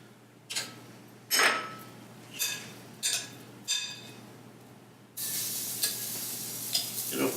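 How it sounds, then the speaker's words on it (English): Lamb meatballs go into a hot greaseless pan with no oil, giving a few short, separate crackles before a steady, faint sizzle takes over. "I can't wait to cook these lamb meatballs right in this pan."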